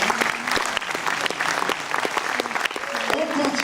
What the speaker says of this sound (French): Félicitations, applaudissements.